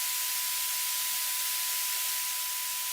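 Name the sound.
white noise partially ducked by a sidechain compressor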